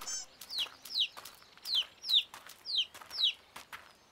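A cartoon chick chirps in quick repeated high cheeps, about six short bright calls in a steady rhythm, clear and close over near silence.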